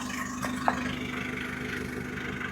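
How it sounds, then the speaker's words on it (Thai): A 2019 Isuzu D-Max Hi-Lander 1.9 pickup with an aftermarket exhaust idles nearby, making a steady low rumble with a faint even pulse and one small click partway through. "นะท่อจะเป็นเสียงประมาณนี้"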